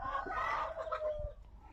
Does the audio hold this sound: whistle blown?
no